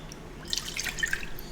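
Half a cup of water poured into a mixing bowl with two eggs makes a brief, light trickle and splash lasting under a second, close but soft.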